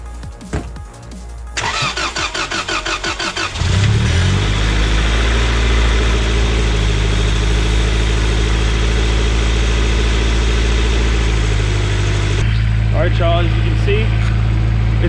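A Honda Integra with a B18 engine, running without fuel pressure, cranks for a couple of seconds, catches loudly, and settles into a steady, close, rumbling idle that continues to the end.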